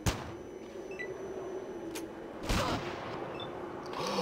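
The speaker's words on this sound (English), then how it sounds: "he shot Stitch, missed, and killed our sniper" Scattered gunfire in the tactical game Fallout Tactics: Brotherhood of Steel, a few sharp cracks spaced over a low steady hum, soft at a distance and then louder near the middle.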